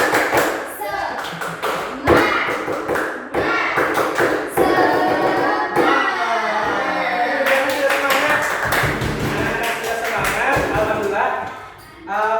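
Classroom of children doing the tepuk semangat clapping chant, loud rhythmic group claps in quick patterned bursts mixed with chanting voices, continuing for about twelve seconds before a brief dip.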